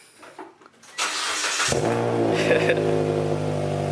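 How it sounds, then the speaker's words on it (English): A Toyota MK5 Supra engine cold-starts inside a closed garage: a quiet lead-in, a starter whir, then the engine catches into a loud, sustained high idle that fills the enclosed space. "I've never heard his car do a cold start before, and I'm in a closed garage"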